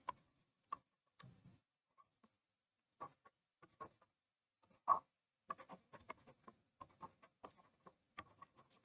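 A pen scratches across paper while genotypes for a genetics pedigree problem are written out, faint scattered strokes and taps in short bursts with quiet pauses, heard up close and alone.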